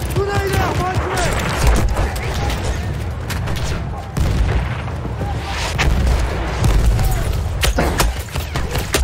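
Battlefield 1 combat at the Battle of Passchendaele: a dense barrage of booms and rattling gunfire with a grenade blast among them, loud and continuous, while voices shout under the din.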